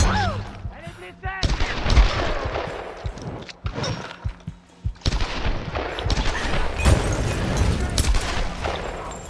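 Gunfire in the video game Tomb Raider, a series of loud irregular shots and short bursts with booming impacts scattered across the scene, mixed with game effects and brief voices.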